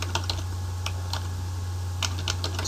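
Keystrokes on a computer keyboard as a project name is entered, sharp clicks in uneven bursts over a steady low hum, fairly close, with no talking.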